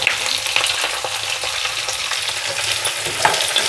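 Small radish pieces frying in oil, a steady dense sizzle with crackles and stirring scrapes, close and continuous with no talking.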